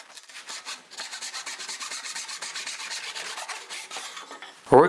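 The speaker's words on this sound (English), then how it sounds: "a good thing to do is go over to the shooting board and get it perfectly square" Hand plane squaring a wood workpiece on a shooting board, a close, steady rhythm of scraping shaving strokes repeating evenly, ending with a brief louder knock.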